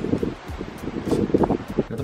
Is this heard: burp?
no